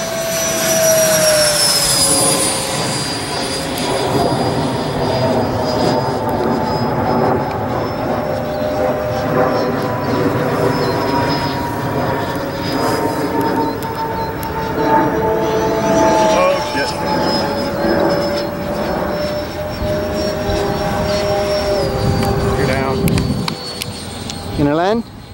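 A 90mm electric ducted fan foam model Sabre jet in flight gives a loud, steady high whine that rises and falls as it passes, with people talking over it outdoors.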